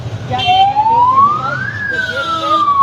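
An ambulance siren wails loud and close, sweeping slowly up and then down in pitch as the vehicle drives off carrying an injured person, with traffic rumbling beneath it.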